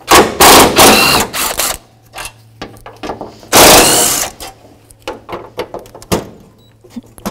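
A ratchet turning a T30 Torx bit socket on the radiator mounts of a 1984-2001 Jeep Cherokee, with bursts of loud, rapid clicking ratcheting in several runs separated by quieter handling noises, close and alone.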